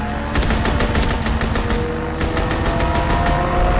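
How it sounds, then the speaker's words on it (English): A fighter aircraft strafing run in Call of Duty WW2 sounds as loud, rapid machine-gun bursts rattling close over a rumbling engine background. "Fighter aircraft ready. All for a strafing run."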